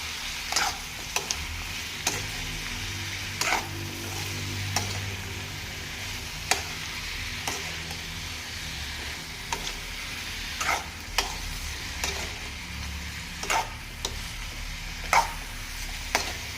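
Brinjal frying and stirred in a pan for a dried-fish curry, a steady close sizzle broken by repeated sharp scrapes and taps of the spoon against the pan, with no voices.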